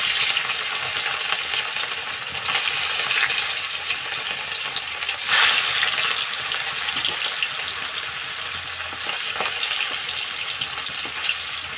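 Fish marinated in salt and turmeric fries in hot oil in a wok, a loud continuous sizzle with crackling spatters and a sharper burst partway through.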